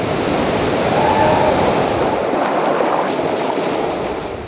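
At Magdapyo Falls, also called Pagsanghan Falls, river water rushes in a steady, loud, broadband roar with no breaks, close by and undisturbed by voices.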